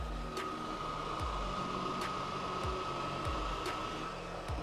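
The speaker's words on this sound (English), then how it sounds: "Does your console or laptop also sound like this" A game console or laptop cooling fan roars at a jet-like pitch, a steady, loud, unbroken whoosh with a constant whine running through it, close by and with no talking.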